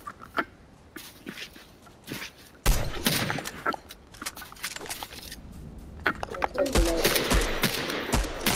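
Gunfire in Fortnite, with scattered sharp shots followed by sustained rapid bursts later on, loud and close, with talk in between.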